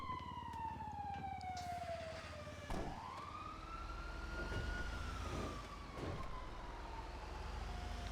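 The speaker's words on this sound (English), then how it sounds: "be arsed with the fucking sound of the sirens" Wailing emergency sirens sweep down and up in pitch, loud and fairly close, over a low vehicle rumble with no talk.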